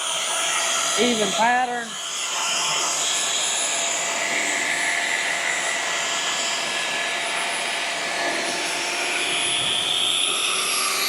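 A polishing machine buffs compound into the paint of a 55-year-old tractor, giving off a loud steady whine with a steady hum beneath. Someone speaks briefly near the start.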